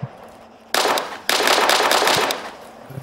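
Simulated assault rifle in Arma 3 fires sustained automatic bursts, a dense loud rattle that starts abruptly, breaks briefly, then continues rapid-fire for over a second before stopping, with quiet background between.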